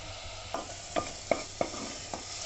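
Tomatoes, onions, ginger and garlic softly sizzle in a pan with a few sharp scraping stirs spaced about every half second, fairly quiet and without any talking.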